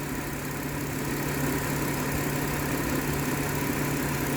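A Kia engine idles with cylinder misfires, a steady close drone with a continuous low hum and even rumble, no voices.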